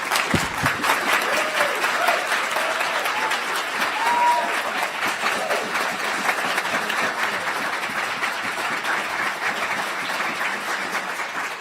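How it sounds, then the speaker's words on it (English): Sustained applause from the audience at a moot court competition, honoring the competitors after a case is submitted; dense, even clapping fills the room for over ten seconds with a few faint voices underneath. "Applause to our competitors"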